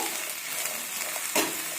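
Eggplant frying in a little oil for a poonko shak posto sizzles steadily in a pan, with one quick spatula stir scraping through near the end of the brief burst.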